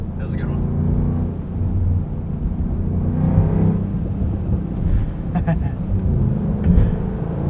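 A 2022 Land Rover Defender V8 two-door idles and revs with low rumbling around 3,500 RPM, broken by a few faint, brief exhaust pops, while people talk over it.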